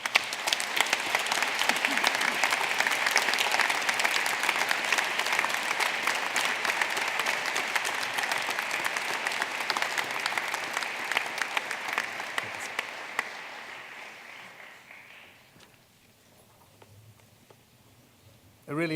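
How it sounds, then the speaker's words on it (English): A large graduation audience at a university winter ceremony in a hall applauds steadily, dense sustained clapping that thins and fades out toward the end. "just offer a round of applause to all your family and friends."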